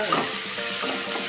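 Chopped onions fry on a high flame in a pan while being stirred, making a brief, steady sizzle with faint scraping and no voices.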